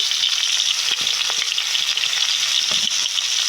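Mango pickle with salt sizzles in a pan as it is stirred, a steady broad frying hiss with a few soft scrapes of the spoon, close and continuous with no talking.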